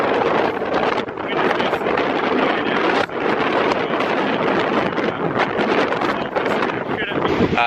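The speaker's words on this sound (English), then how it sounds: "Pretty windy out here." Strong wind rushes between two buildings and blasts straight into the microphone, giving constant heavy roaring buffeting throughout, with a voice faintly audible underneath.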